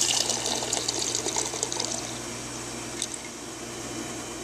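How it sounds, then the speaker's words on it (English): Water runs from the cold and hot taps of a water cooler, a steady splashing, trickling flow that is loud at first and gradually eases. "Dispense out of the cold and hot water tap"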